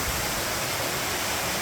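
Rushing water at the RiverRock Waterfall pours in a loud, constant broadband roar with no breaks and no voices throughout the short stretch.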